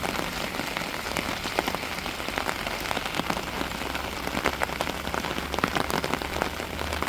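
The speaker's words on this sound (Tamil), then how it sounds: "கடற்கரை சைடு மழை எப்படி பேஞ்சிக்கிட்டு இருக்குன்னு பாருங்கள்" Heavy rain pours steadily on a beachside stretch of coast, a dense, continuous hiss of drops spattering surfaces close by, with no voices and no break in the downpour.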